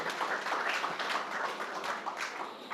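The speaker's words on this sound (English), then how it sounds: "a big round of applause" An audience at a startup pitch competition applauds continuously, a dense patter of many hands clapping at moderate volume, heard from some distance.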